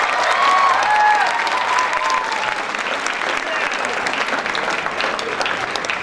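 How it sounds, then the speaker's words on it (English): An audience at an engineering event applauds the ASME India president: loud, sustained clapping from a crowd, steady throughout, with faint voices and a brief whistle near the start. "Put your hands together for him as well."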